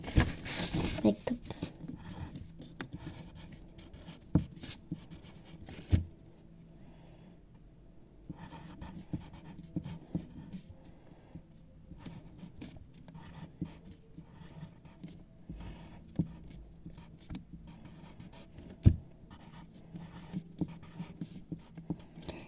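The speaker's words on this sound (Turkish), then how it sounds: "Şöyle bir mektup yazayım." Pen scratching on paper as a letter is written by hand, a soft continuous rubbing with small taps, close and quiet, with speech heard at times.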